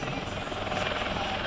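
A single-engine turbine helicopter of 500 horsepower flies at an aerodrome air show, its steady, loud rotor and turbine roar filling the air without a break.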